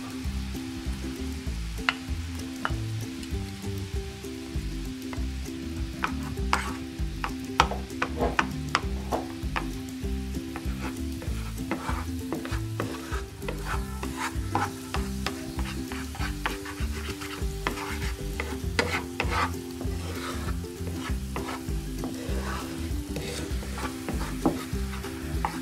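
Butter melts into sugar and water caramelizing over low heat in a pan, giving a soft continuous sizzle with scattered pops and ticks over steady low tones.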